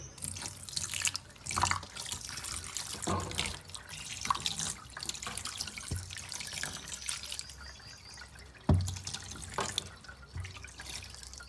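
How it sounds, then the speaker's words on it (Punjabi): Water runs and splashes steadily into a container, with a few thumps and clinks of handling along the way. "ਹੁਣ ਇਹਦੇ ਵਿੱਚ ਪਾ ਦੇਾਂਗੇ ਠੰਡਾ ਪਾਣੀ"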